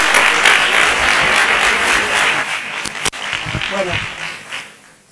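Audience applause at a Spanish education ministry event, a steady wash of many hands clapping that fades out near the end, with a voice briefly speaking over it.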